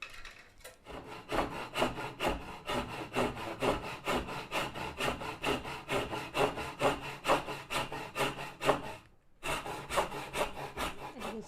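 A hand saw cutting wood to make a jewelry bench peg, close, rhythmic back-and-forth rasping strokes about two per second with a brief pause near the end, no talk.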